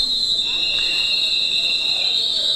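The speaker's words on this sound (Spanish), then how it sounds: "Con la última palabra de la oración llega el ruido ensordecedor de los silbatos" Many whistles shriek together at once inside a congressional chamber, forming a loud, piercing, sustained blast over a rumbling crowd.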